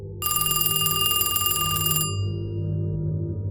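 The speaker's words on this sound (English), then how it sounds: "Then suddenly, the phone rang." An old-style telephone bell rings in a fast metallic trill for about two seconds and then stops abruptly, close and loud over a low ambient rumble, with no voices.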